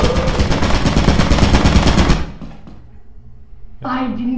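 Turret in a video game fires a loud, rapid burst of automatic gunfire for about two seconds, then cuts off into a quiet pause before a voice speaks.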